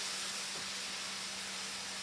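Ginger and chickpeas sizzling in a pan for a lemon chickpea curry, a steady broadband hiss and crackle that is close and continuous for two seconds, with a low steady hum underneath.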